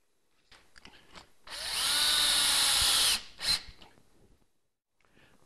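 A power tool whirs for about two seconds in a steady burst, then a short second burst, while fixing a timber batten under a roof verge undercloak; close and clear against quiet surroundings.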